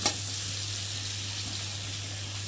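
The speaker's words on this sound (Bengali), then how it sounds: "কলাটা ভালোভাবে ভেজে নিয়েছি" Raw banana pieces frying in a pan give a steady, close sizzle that holds evenly throughout with no talk, a low electrical hum running beneath it.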